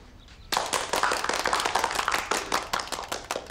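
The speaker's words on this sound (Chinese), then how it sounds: "请鼓掌通过" A room of delegates at a founding party meeting bursts into sustained clapping after a short quiet lead-in, a dense, even patter of many hands lasting a few seconds.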